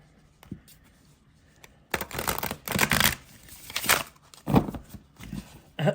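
Tarot cards riffle and slap together in several bursts of shuffling, with brief pauses between the rustling passes.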